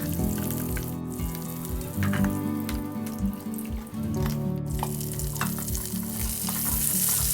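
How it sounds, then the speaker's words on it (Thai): Pork belly sizzles steadily in a hot pan, a dense, close crackle of frying with stirring scrapes, as rendered fat is poured out with a brief liquid splash. "พอน้ำมันมันออกมาเยอะๆเราก็จะเทน้ำมันออกค่ะ"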